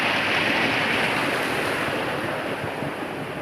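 Continuous rushing water surges loudly and steadily, a dense roar of waves with wind noise and no voices.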